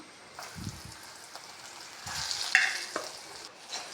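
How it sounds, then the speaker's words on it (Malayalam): Chopped ginger and garlic fry in hot oil in a pan, a steady close sizzle broken by several scraping stir strokes, with no talking. "ഇഞ്ചി വെളുത്തുള്ളിയും ഗോൾഡൻ നിറമാകുന്നത് വരെ നമുക്ക് ഒന്ന് ഇളക്കി കൊടുക്കാം"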